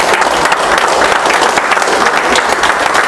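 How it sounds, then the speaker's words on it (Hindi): Dense, steady clapping from a seminar audience at a network-business training session, loud and close, filling the room without a break and with no talk over it. "ताली बजा लो।"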